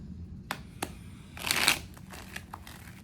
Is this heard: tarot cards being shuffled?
yes